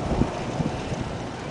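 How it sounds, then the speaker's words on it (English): Wind gusting outdoors near Bakersfield, California, rumbling steadily against a microphone as a low, blustery roar, fairly quiet and with no one speaking. "And it's windy today."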